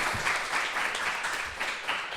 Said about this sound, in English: So please, a small round of applause for our panel.